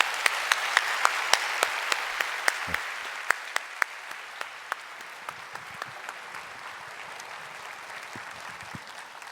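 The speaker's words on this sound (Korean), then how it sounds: "뜨거운 박수로 환영해 주시기 바랍니다" A church congregation applauds to welcome a pastor at a Sunday worship service; a few sharp, close claps stand out over a soft crowd patter that gradually thins and fades, with no speech.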